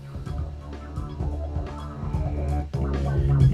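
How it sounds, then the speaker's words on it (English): A full music mix runs through a multi-band noise suppression plugin set to extreme, giving a choppy, gated sound that cuts in and out in short bursts. "This becomes real gatey."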